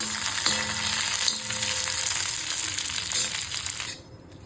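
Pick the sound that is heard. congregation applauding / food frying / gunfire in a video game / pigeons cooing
food frying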